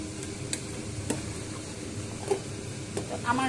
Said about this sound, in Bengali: এবার এটাকে আমি নাড়াচাড়া করে ঢাকা দিয়ে গ্যাস বন্ধ করে দেব